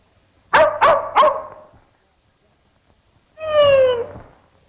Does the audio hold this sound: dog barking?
yes